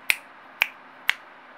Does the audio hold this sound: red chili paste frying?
no